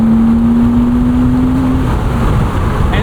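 A 1999 BMW Z3 M Roadster engine holds a loud, steady drone with a sustained tone that eases slightly toward the end, close and continuous, with no talking.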